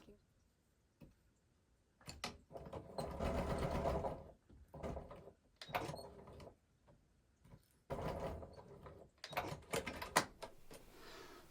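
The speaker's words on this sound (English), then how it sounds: "I'm going to take this over to the sewing machine" A sewing machine runs long basting stitches along trouser side seams in several bursts, stopping and starting, with quiet pauses and faint handling noises between runs.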